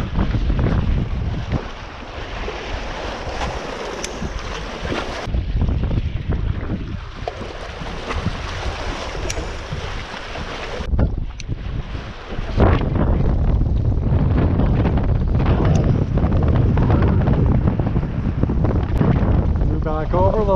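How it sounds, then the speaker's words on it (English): Strong wind buffets the microphone from a fishing boat on open water while casting for pike and walleye, a steady broadband roar that swells louder in the second half, with faint sounds of water beneath. "This wind is murderous on the cast."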